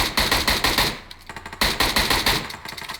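Rapid bursts of automatic gunfire from PUBG Mobile, loud and close, two long volleys separated by a brief pause.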